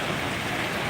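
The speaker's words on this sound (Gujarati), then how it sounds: "ફૂલ જ વરસાદ છે." Heavy downpour in the Hirwadi area of Ahmedabad, a dense, steady hiss of rain falling on surfaces, loud and unbroken with no voices.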